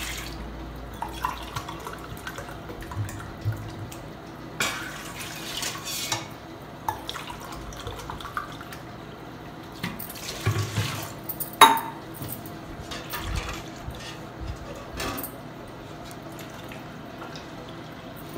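Water measured by the glass is poured into a pan while Madugula halwa is made, heard as faint splashes and drips with scattered clinks of glasses, spoons and pans in a quiet kitchen.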